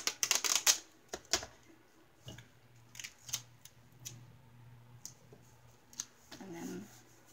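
Packing tape is pulled off its roll in short, crackling, ripping bursts while sealing a flat rate mailing envelope, loudest at the start and then in scattered quieter pulls and taps.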